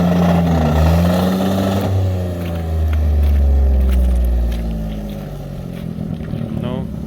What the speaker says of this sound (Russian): Джип попал под лед и не может никак выехать. Газует,